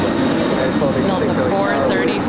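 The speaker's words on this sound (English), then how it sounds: "436 off to New York Kennedy. 31-year-old 767-300ER with the most beautiful winglets" A 31-year-old Boeing 767-300ER with winglets roars on departure from Los Angeles LAX bound for New York Kennedy, a loud steady jet rumble as someone talks over it.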